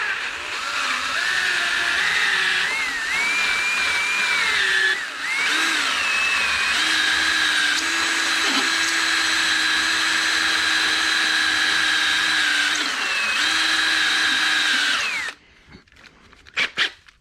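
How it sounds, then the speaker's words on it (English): A power drill with a carbide tip boring into a Subaru TD05-20G turbo housing, a loud continuous whine that shifts pitch with load before stopping abruptly, followed by a few clicks. "Need a new drill."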